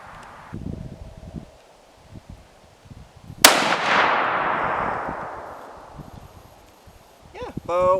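A single sharp, loud crack of a Remington 700 SPS rifle in .308 Winchester firing at an outdoor range, followed by a long rolling echo that fades over several seconds; a voice speaks briefly at the end.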